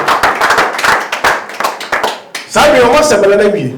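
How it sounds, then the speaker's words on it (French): Rhythmic clapping and applause from a church congregation praising the Lord, sharp hand claps over voices, swelling into louder cheering and shouting near the end. "Acclamez pour les bon Seigneur"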